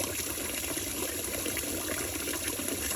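Water pours steadily from a tap into a Goser portable mini washing machine set in a deep sink, a continuous close hissing gush that stays even throughout.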